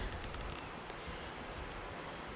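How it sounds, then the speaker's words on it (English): Steady rain falls outside a mountain hut in cold, wet weather, a dense, even hiss of drops on surfaces with no voices, constant throughout. "It's pretty cold and rainy out here"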